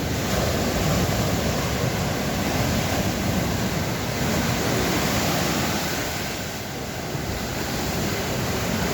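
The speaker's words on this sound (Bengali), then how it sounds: "আজকে সমুদ্র ভালো উত্তাল।" Rough sea surf at Ao Nang beach in Thailand during light rain, a dense continuous roar of breaking waves with wind rumble on the microphone, loud and close, easing briefly before swelling again, with no voices.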